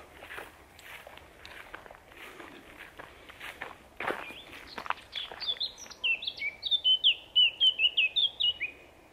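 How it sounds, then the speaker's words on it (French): Footsteps crunch along a path, then a bird starts a bright, repeated chirping song close by, growing louder toward the end. "Et on entend les oiseaux."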